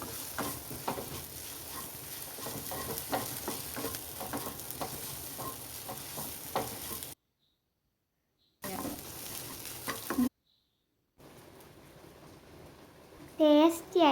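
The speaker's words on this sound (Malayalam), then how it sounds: "അതിലേക്ക് നൂഡിൽസ് ഇട്ട് മിക്സ് ചെയ്തെടുക്കുക." Egg noodles stir-fried in a pan, a steady close sizzle with repeated scraping and tossing strokes, broken by two short silent gaps, then softer frying and a brief squeaky scrape near the end.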